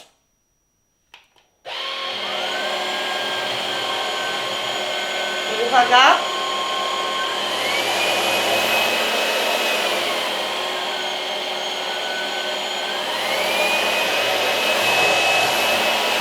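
After a brief click, a loud vacuum cleaner whirs steadily at high pitch, its whine rising and shifting, with a short rattle partway through and a spoken exclamation.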